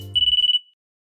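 A telephone gives a single short electronic trill, a quick pulsing burst of about half a second that stops abruptly into silence.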